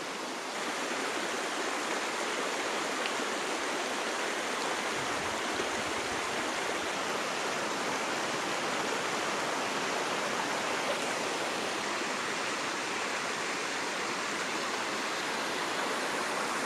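Low water runs through a stream in the Hüttlebach gorge, a steady, close rushing hiss of flowing water that stays constant without any voices.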